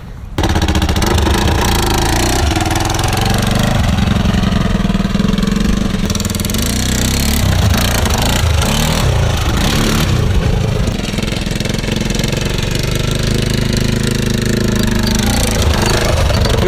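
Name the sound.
quad ATV engine running with new custom exhaust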